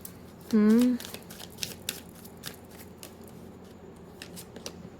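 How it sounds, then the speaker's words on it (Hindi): Tarot cards being shuffled and drawn during a reading, with soft papery riffles and light flicks running steadily and close. A brief whistled tone cuts in near the start. "पूरा कार्ड्स निकाल लेते हैं"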